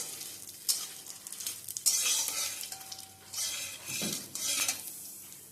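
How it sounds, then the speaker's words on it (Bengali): Green chillies frying in a pan crackle in short bursts of sizzle, broken by stirring and the scrape and clink of a spoon against the pan, with no voices. "কাঁচা লঙ্কাটা দেবেন দিয়ে এটাকে আমি একটুখানি ভাজা ভাজা মতো করে নেবো"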